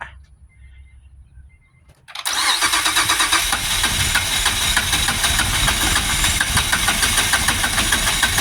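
A 2005 Acura TL Type S with its 3.5L engine cranks briefly after a quiet stretch and then catches, settling into a loud, steady, slightly rough idle close by.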